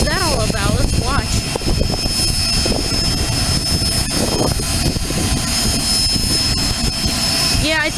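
A Learjet's jet engines roar with a broad, sustained whine and rush as thrust builds at a small municipal airport, steady and loud throughout, with people talking over it.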